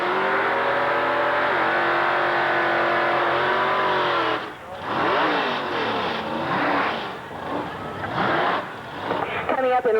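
Drag race cars launching from a green-light start, a Plymouth driven by Mike Golish of Champaign among them, engines roaring loud and steady before breaking into rising, sweeping revs and gear changes, with an announcer talking over it.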